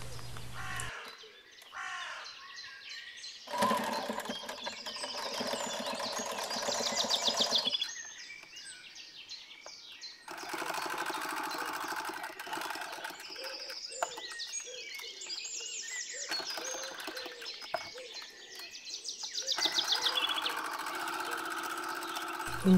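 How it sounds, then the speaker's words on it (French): A sewing machine stitches fabric all around the edge at 2 mm from the border, running in several loud bursts of steady mechanical whirring separated by short pauses. "on va venir coudre tout autour à 2 mm du bord"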